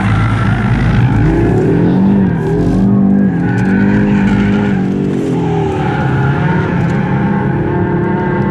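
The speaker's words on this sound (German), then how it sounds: "da kommen echt spannende Geräusche aus dem Differential vorne raus" An Audi RS3 8Y braking hard on a race track, its engine droning loudly while the front differential whines and groans, with the pitch sliding and wavering steadily throughout.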